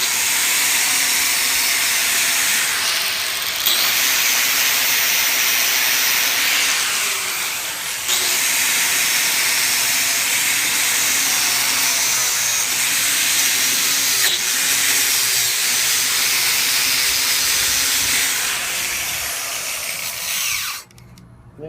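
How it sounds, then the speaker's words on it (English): Handheld grinder fitted with a wire wheel cleaning a blacksmith flatter held in a vise, a loud, steady high-pitched whirring hiss with slight dips in pitch as it bears on the metal, cutting off abruptly at the end. "the wire wheels will grab off the corner, so just be careful with that"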